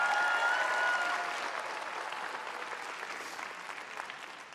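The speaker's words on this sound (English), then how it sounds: "How about another big hand for Deborah and Janelle and Ian" A large crowd at a graduation ceremony applauds, with dense, sustained clapping that starts loud and gradually fades.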